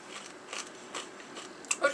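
Someone bites and chews a hard, crunchy compressed rice snack up close, several quiet crunches spaced unevenly over a couple of seconds.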